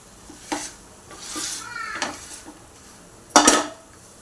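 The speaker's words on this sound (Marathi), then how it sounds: "आता याला माशाच्या सहाय्याने जरा दाब देऊया व्यवस्थित" A masher presses and scrapes cooked food in a pan for an egg ghotala breakfast dish, giving several short separate scraping and clattering strokes, with one sharper, louder stroke near the end.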